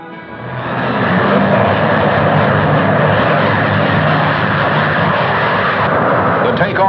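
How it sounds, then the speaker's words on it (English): A captured German rocket ignites and lifts off with a loud, continuous roar that swells within the first second and then holds steady and powerful. "The takeoff is smooth."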